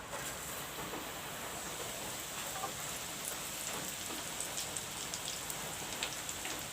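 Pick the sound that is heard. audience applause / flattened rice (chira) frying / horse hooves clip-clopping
flattened rice (chira) frying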